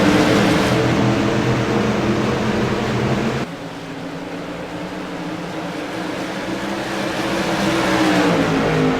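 Modified race cars at Rockingham Speedway roar down the front stretch on a restart, a continuous dense engine drone that dips briefly and then swells again as the pack passes in foggy conditions.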